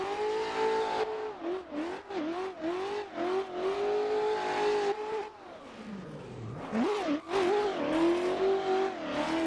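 A V8 engine in a BMW M4 G82 roars in a racing video game played with a wheel, revving up and down through gear changes with a brief dip and lift on corner exit, loud and continuous.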